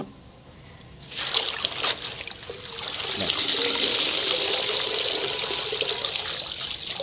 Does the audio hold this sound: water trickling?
yes